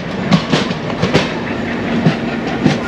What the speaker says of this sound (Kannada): ಸೊ ಈ ಟ್ರೈನ್ ನೋಡಿ ಕೊಂಕಣ ಅನ್ಸುತ್ತೆ